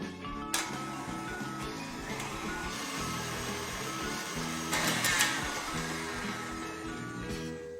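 An electric mixer whirs steadily, beating soft butter and sugar together in a bowl, a continuous buzzing drone with a brief louder swell partway through, no talking.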